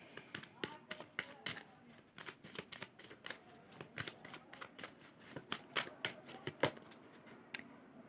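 Tarot cards are handled and shuffled, producing a quick series of sharp, close riffling snaps and taps in an irregular rhythm, with faint talk in the background.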